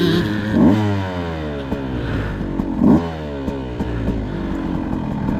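A Beta 200RR Race Edition dirt bike lapping an enduro cross track, its two-stroke engine droning steadily and loudly with repeated throttle blips and revs rising and falling, no voices.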